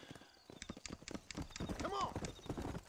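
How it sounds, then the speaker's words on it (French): A horse gallops in the video game Red Dead Redemption, running on emulation, with quick rhythmic clip-clop hoofbeats and a brief whinny midway, quiet and close, with a voice talking over it. "pour faire courir le cheval, c'est B."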